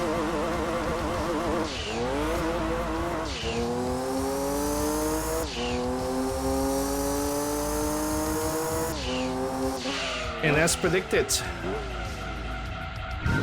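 Light race car in Gran Turismo 2 on PS1, 690 brake horsepower and 900 kilograms, engine screaming up through gears with sharp rising revs and shifts, tires squealing near the end, while someone talks over it.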